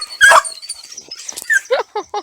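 A beagle mother dog barks in short, sharp yips near the end after a louder opening bark, close and fairly loud, with some faint whimpering noises in between and puppies nearby.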